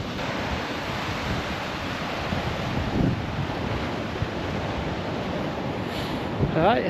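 Ocean waves crash onto the Scottish coast below cliffs, a loud continuous roar of surf with wind buffeting the microphone, surging slightly around the middle before a brief whistle-like sound near the end.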